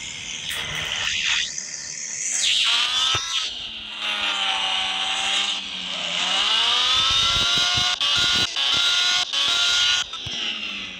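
A Lamborghini engine runs loud and close, its tone rising and falling through repeated revs with a steady throaty drone between them.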